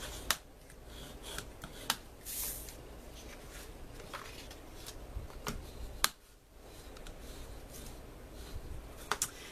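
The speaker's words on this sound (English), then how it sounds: "Now I'm going to use my bone folder and fold those over." Paper being folded over and creased with a bone folder while making a mini album gives faint, scattered crisp clicks and light rustles at irregular intervals over a quiet background.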